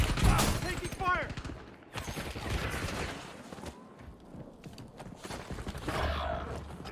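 Call of Duty: Warzone gunfire, bursts of rapid shots mixed with in-game effects and voices, uneven in loudness across the stretch.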